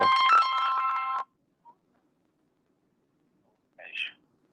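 A phone's ringtone trills loud and close for just over a second, then the line goes quiet before a brief electronic tone sounds near the end, with no talk over it.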